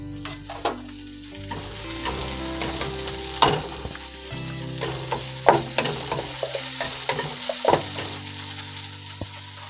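Masala spices with a pinch of salt frying in a pan for masala oats, a steady close sizzle broken by repeated scraping strokes of a stirring spoon, with no talking.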